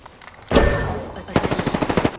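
Apex Legends gunfire: a loud burst opens, followed by a rapid automatic volley of about a dozen evenly spaced shots, close and punchy.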